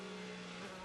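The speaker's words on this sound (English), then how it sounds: "And listen to the gear shifting here. Down the gears we go." An IndyCar race car at the Indianapolis Grand Prix in 2017, its engine droning steadily and loud throughout a brief moment of downshifting, with sustained tonal whine and no voices.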